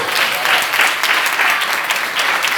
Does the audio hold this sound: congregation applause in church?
yes